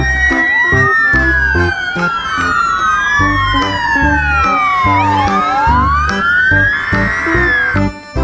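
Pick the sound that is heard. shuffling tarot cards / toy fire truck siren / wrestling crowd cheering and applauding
toy fire truck siren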